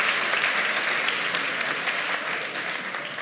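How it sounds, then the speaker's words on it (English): A theatre audience at a magic performance gives a full round of applause, dense steady clapping that fades slightly toward the end. "Let's give him a huge round of applause for helping us out."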